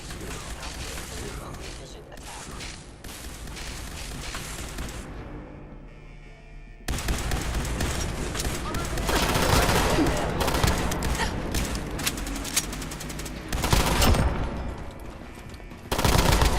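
Sustained automatic gunfire and explosive bursts from the video game Fallout 4, dense and loud throughout, briefly thinning around the sixth second before a heavier barrage resumes, with a voice faintly present beneath the shooting.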